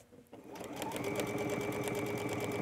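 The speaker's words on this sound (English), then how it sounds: "I'm just holding the ribbon, lining it up in the center and stitching." A sewing machine stitches ribbon onto a sheath dress, starting with a brief tap and then running in a fast, steady whirring chatter at close range, with faint talk underneath.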